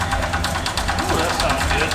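A Ford Ranchero, long parked, fires up and settles into an idle. The steady mid-range engine rumble is close and loud, with an irregular pulse for under two seconds and voices talking over it.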